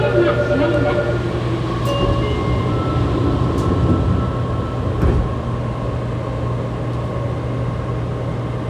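A Fukuoka City Subway 2000 series train with Hitachi late-type GTO-VVVF drive and an abnormal noise pulls away, a low rumbling hum and rising, whining motor tones heard from inside the car, with steady running noise.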